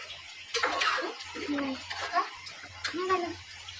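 Water pours into a pan to cook prawns in a few short, splashy gushes with gaps between them, close by, and a faint low hum runs underneath.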